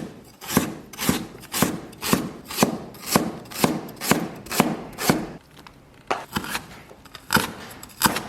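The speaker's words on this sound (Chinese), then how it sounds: "把姜和八角全切碎" A knife chops ginger and star anise on a cutting board in a steady rhythm of about a dozen sharp, close strikes, pausing briefly before a few more irregular chops.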